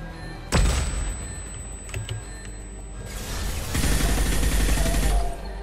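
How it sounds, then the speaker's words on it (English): A flashbang detonates in Mass Effect 2 with a sudden sharp bang and a high ringing tone, followed by rattling gunfire and a second loud burst of shooting later on. "That's a flashbang."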